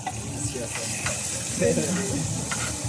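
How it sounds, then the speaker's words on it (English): Steady sizzling of food frying in a pan without oil, a continuous crackly hiss with occasional stirring clatter, close and moderately loud. "So we like to hear the sizzle."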